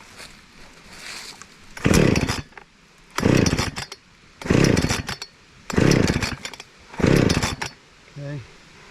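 Five loud, sharp bursts come from a Husqvarna 455 Rancher chainsaw being pull-started with the chain brake on and choke out, each a brief sputtering roar at roughly regular intervals that never catches, with a faint rattle trailing at the end.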